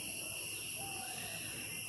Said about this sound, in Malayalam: ചീവിടിൻ്റെ സൗണ്ടൊക്കെ കേൾക്കുന്നുണ്ടോ?